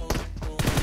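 Rapid gunshots in the Free Fire video game, several sharp bursts in quick succession within under a second, loud and close.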